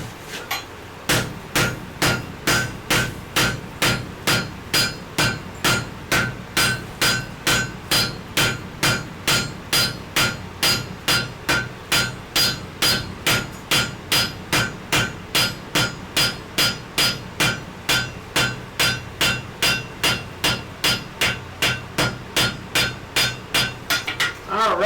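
Steady, evenly spaced hammer blows forge welding a wrought iron face onto a sledge hammer, dozens of loud ringing metallic strikes repeating at a brisk, regular rhythm close by.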